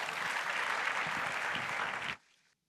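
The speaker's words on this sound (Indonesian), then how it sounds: "Mari sama-sama kita berikan tepuk tangan, saudara." A church audience claps together in a full, steady burst of many hands, then the applause cuts off abruptly, leaving a faint room tail and then silence.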